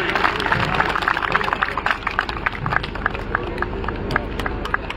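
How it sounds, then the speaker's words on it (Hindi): Dense, steady applause from a large audience at a political felicitation ceremony, with many hands clapping at once at a constant loud level for the whole stretch, and scattered sharp claps standing out from the mass. "तालियां नहीं रुकनी चाहिए भाई।"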